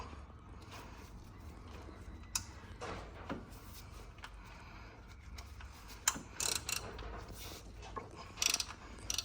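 An oil filter is unscrewed by hand or with a tool on a Toyota Aygo, giving faint, scattered clicks, scrapes and ratchet-like knocks at close range against a low background hum.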